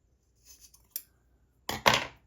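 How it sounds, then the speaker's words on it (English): Scissors snip through the cord of a handmade kumihimo friendship bracelet, a couple of light, quiet cuts followed by a louder, closer crunching snip, with no talking. "So I'm going to go ahead and cut it."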